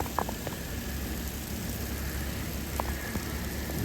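Water sprinkler pipes mist inside a silkworm rearing shed, a continuous soft hiss like light rain with a few faint drips and ticks, no talk.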